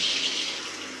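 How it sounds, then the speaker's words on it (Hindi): Water rushes through plumbing into a newly installed geyser water heater, a steady hissing flow that fades slightly over a brief moment, with no talking. "अभी गीजर में पानी इन हो रहा है"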